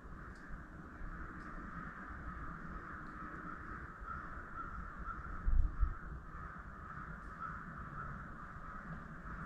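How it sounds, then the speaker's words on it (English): Crows caw repeatedly at a distance over a steady outdoor background in winter woods, with a brief low thump partway through. "There's crows going absolutely nuts over there."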